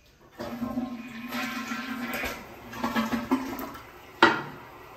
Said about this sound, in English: These are energy efficient flushing toilets.